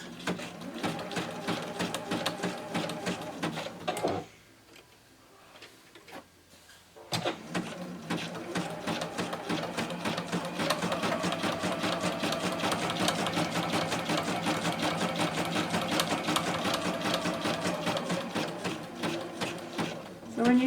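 A sewing machine stitches an appliqué in rapid, steady bursts of close mechanical chatter, with a pause of a few seconds before the stitching resumes and runs continuously.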